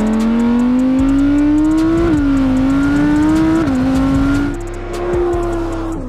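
An Audi R8 GT sports car engine revs hard and steadily, its pitch climbing with brief dips at gear changes, loud and close throughout, then easing off near the end with no talk.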